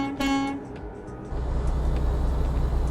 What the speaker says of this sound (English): This is the air horn.